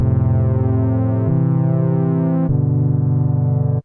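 Sustained synthesizer chords change twice, three held chords in a row with a buzzy, pulsing low end, steady and loud with no voices.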